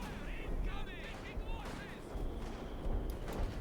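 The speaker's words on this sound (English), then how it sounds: "Artillery fire they called in by Angry Dutchman using the House of Archer, unleashing a storm of explosions" Artillery barrage in the video game Company of Heroes 2, a storm of rumbling explosions and booms rolling on throughout, heard under steady commentary talk.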